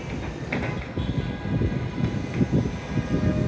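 A train rumbles past near a sports stadium in Dhaka, a steady low roar of wheels and carriages that holds fairly loud throughout the short stretch with no voices.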